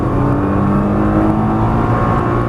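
A Nissan GTR accelerates hard around a race track in Las Vegas, its engine roaring loud and steady from close inside the car as revs build continuously with no talk.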